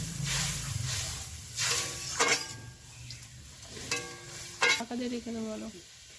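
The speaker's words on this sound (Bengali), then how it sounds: "দেখুন এবার এই চালের মধ্যে আমি পরিমাণ মতো জল দিয়ে দিচ্ছি।" Water is poured into rice cooking with pointed gourd in a pan, giving a hissing sizzle that flares in short bursts over a steady bubbling background, with faint clinks of a utensil against the pot.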